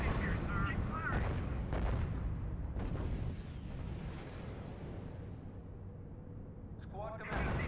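Booming artillery and gunfire from a World War II strategy game rumble continuously, with dense low blasts, a couple of sharper bangs and faint radio-style voice chatter over the barrage.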